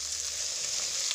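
Mushrooms fry in a pan over a low gas flame for masala mushroom, a steady close hiss and sizzle of oil without talk.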